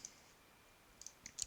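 A computer mouse button is clicked in a quiet room, a few faint, sharp clicks spaced over a second or so, with no talking.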